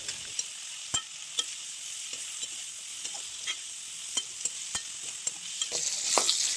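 Chicken frying in a pan with red chilli sizzles steadily while a utensil stirs it, scraping and tapping against the pan in irregular sharp knocks throughout, close and clear.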